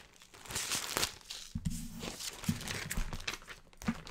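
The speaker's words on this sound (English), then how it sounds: "And I'm sorry about the rustling." Close, intermittent crinkling and tearing of packaging being handled, with bursts of crackle and a few soft thumps, heard alone without talk.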